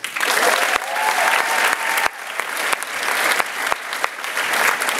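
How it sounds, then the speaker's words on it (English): Audience applauding veterans at a high school Veterans Day ceremony, a loud, dense burst of clapping that dips briefly at moments and keeps going steadily, with a few sharper claps standing out close by. "let's get one more round of applause for our honored"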